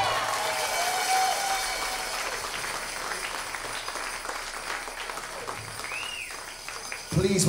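Applause and cheering from a crowd at a holiday jam concert, a continuous wash of clapping with voices mixed in and a louder burst at the very end.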